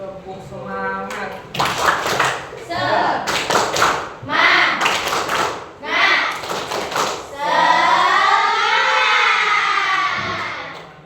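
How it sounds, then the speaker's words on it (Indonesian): A classroom group of teachers performs a rhythmic spirit clap, patterned bursts of hand claps and thumps interleaved with chanted voices, ending in a long cheering shout. "Tepuk semangat."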